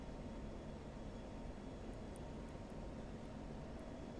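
The engine of an F-16 fighter jet in the DCS flight simulator, set over Baghdad in 2003, gives a steady, faint, distant-sounding roar that holds an even level throughout with no other sounds.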